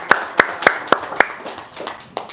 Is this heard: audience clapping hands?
yes